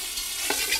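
Stir-frying in a wok: a steady sizzle runs throughout, with a brief louder scrape of stirring about halfway through.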